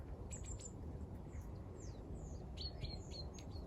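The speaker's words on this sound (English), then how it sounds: "It's nice and quiet and you can hear all the birds." Several birds sing and chirp in a quiet Scottish garden on a late August morning, with bright repeated tweets in short bursts, clearest near the end, over a soft steady background.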